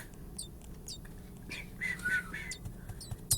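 A baby bird rescued from the ground chirps faintly with thin, high repeated cheeps over a quiet room background.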